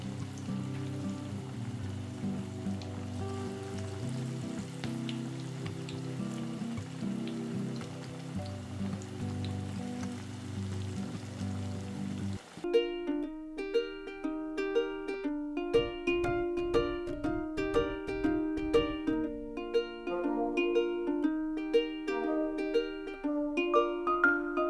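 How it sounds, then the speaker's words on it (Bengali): Cabbage pakoras deep-fry in hot oil with a steady, dense sizzle for about half the time, then music takes over. "পাকোড়াগুলো লাল লাল করে ভেজে ভালো করে ভেজে তুলে নেব।"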